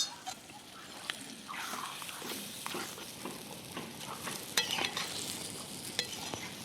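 Garam masala and coriander powder fry in a pan for a Konkan-style whole-goat mutton curry, a soft sizzle broken by repeated scraping stirs and a few light clinks of the spoon, close and fairly quiet, with no speech.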